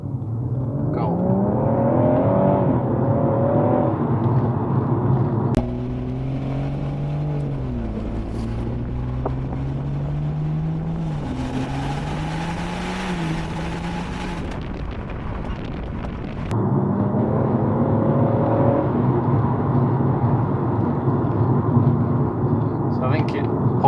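A BMW M140i in sport mode accelerates hard, its engine drone climbing in pitch through the gears, loud and close inside the cabin, with a brief quieter stretch and wind rush midway and occasional speech.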